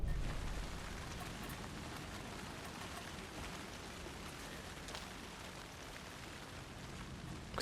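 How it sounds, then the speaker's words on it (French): Steady rain falls in the video game Alan Wake II as an even, faint hiss of drops that continues the whole time, with no voices. "Cette fois-ci il pleut"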